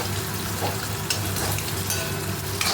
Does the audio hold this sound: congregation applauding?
no